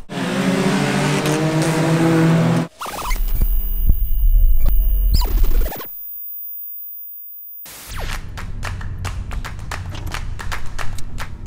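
A car drives along a road toward the Nakayama racing circuit in Japan, its engine and road noise loud and steady throughout, with a brief quiet gap and a series of sharp clicks or taps near the end.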